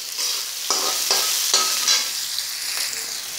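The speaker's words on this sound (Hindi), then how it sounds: "और प्याज चाहिए थोड़ा फ्राई कर लेंगे। प्याज लाल हो जानी चाहिए।" Onions sizzling in a pan for spiced chickpea curry while a spoon scrapes and stirs them, producing a steady hiss with four or five distinct stirring scrapes up close; no talking.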